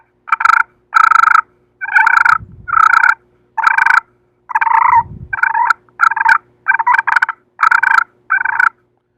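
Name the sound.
turkey purring imitated on slate call with corncob striker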